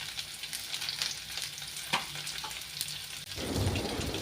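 Onions and cashew nuts frying in hot oil with ginger, garlic and chillies, giving a steady crackling sizzle and occasional stirring scrapes, growing louder and denser near the end.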